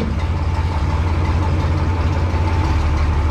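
A tractor engine idles while warming up, steady with a deep, even rumble and no change in pace, close by and fairly loud, with no voices.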